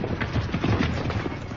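Horses trot rapidly in a timed race, their hooves beating in a dense, fast, close drumming that continues without pause through the short stretch.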